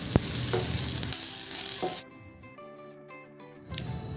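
Finely chopped onion sizzles and is stirred in a hot pan for a snack of alasande usli, a loud frying hiss for two seconds that drops away, then returns faintly with scraping.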